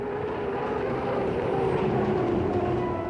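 An unlimited hydroplane race boat powered by a 2,800-horsepower military helicopter turbine engine roars steadily and loudly throughout, a continuous whining rumble with no talk.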